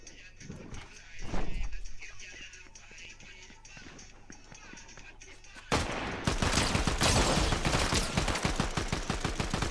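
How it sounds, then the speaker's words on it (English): Gunfire in a TikTok live match comes in scattered shots at first, then a dense, loud burst of rapid automatic fire, with footsteps and movement sounds in between. "He's trying to shoot me so badly."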